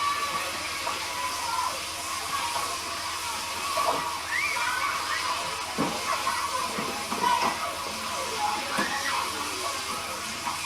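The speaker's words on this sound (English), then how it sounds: "You hear that bubbling and cracking." Steady hissing sizzle with bubbling and occasional sharp crackles and pops, close by, from noodles frying in a hot pan.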